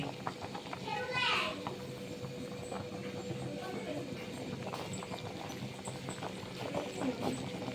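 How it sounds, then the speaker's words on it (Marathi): A pot of chicken curry bubbles and simmers steadily at a boil with a broad, busy texture, plus a few faint clinks and background noise throughout. "चिकनला एकदम मस्त पैकी उकळी आली"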